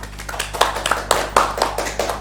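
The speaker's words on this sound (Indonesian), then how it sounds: "Tepuk tangan buat Mas Rian" Applause in a podcast setting: a small group clapping unevenly for a few seconds, close and moderately loud over a steady low hum.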